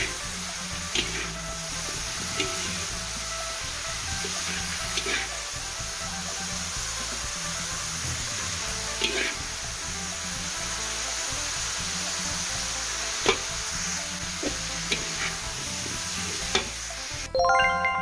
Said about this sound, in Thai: ผัดฉาปลาปึ้งนะคะพี่น้องละเอียดเอาเนื้อปลาไปทอดนะคะแล้วก็มาผัดกับเครื่องผัดฉานะคะ